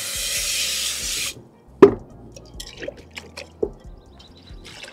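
Water pours and splashes into a plant pot for about a second, then stops. Soft dripping, rubbing and light knocks of the pot follow, close by and with no talking.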